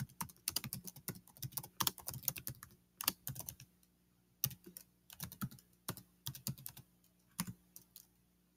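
Keystrokes on a Chromebook keyboard as a terminal command is entered, close and fairly quiet, arriving in quick bursts of clicks separated by short pauses, with no talking.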